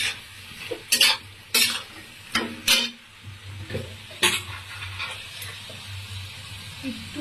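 Young jackfruit and pre-fried potatoes are stirred through a half-cooked spice mixture in a pan, with a steady sizzle under several sharp spoon scrapes and clanks against the metal.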